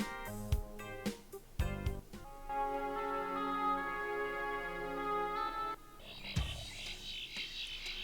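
Gritty electronic music from the game The Journeyman Project 1: Pegasus Prime, with sharp percussive hits, a buzzing, wobbling dubstep-like synth line and a squelchy high lead near the end, no voices.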